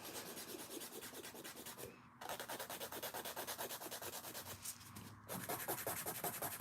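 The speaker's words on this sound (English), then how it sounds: "I'm gonna get my filing and my shape down before we go in with any nail art" Fingernails with firm gel being filed and shaped before nail art, a quiet, close rhythmic rasping of quick back-and-forth strokes with two brief pauses and no talking.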